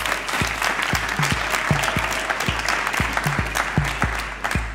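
An audience at a national young researchers' competition applauds to welcome a presenter to the stage: sustained, full clapping from a crowd, with a regular low thumping beat running underneath.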